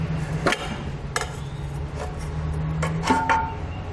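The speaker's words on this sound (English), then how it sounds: "you just take a pry bar or a long blade screwdriver. The main goal is just to slide that rubber piece off of the metal hanger." A pry bar working a rubber exhaust isolator off a metal hanger under a 2015 Ford Explorer during a trailer hitch installation: a few sharp metallic knocks and scrapes spaced apart, with a short squeak near the end.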